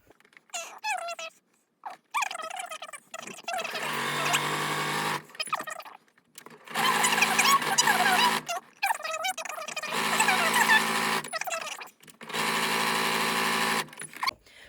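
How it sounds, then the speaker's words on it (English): A sewing machine stitches all four seams of a pillow, joining front and back pieces, in several loud sustained whirring bursts of a few seconds each, separated by short pauses with small handling clicks. "I'm going to sew all 4 seams so the 2 pieces are entirely stitched together"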